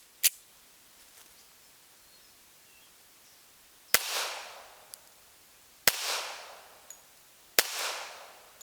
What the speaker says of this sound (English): So I'm going to take my 3 shots.